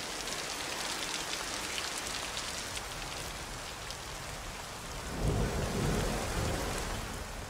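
Steady rain falling in a Black Forest woodland, with a louder, rumbling swell of the downpour or thunder coming in near the end.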